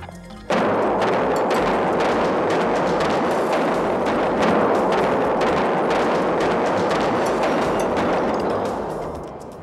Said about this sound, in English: the very first explosion ever to be detonated inside the containment dome of a nuclear power plant